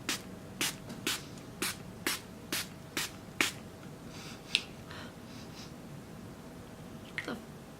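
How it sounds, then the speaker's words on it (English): E.L.F. Makeup Mist and Set setting spray is pumped in a series of about eight quick, close spritzes at a steady rhythm, followed by quieter rustling and breathing. "So it's their setting spray."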